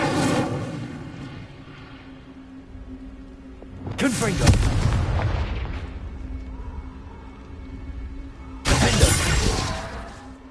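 Fire spell bursts being cast in the Hogwarts Legacy game, two loud crackling whooshes with a bright burst at each onset, separated by several seconds of rumbling ambient game sound.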